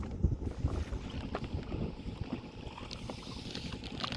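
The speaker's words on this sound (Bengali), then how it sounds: "বোটটা তো হেভি রানিং যাচ্ছে" A small fishing boat runs at speed on a Sundarbans river, its motor drone mixed with rushing water and strong wind buffeting the microphone throughout.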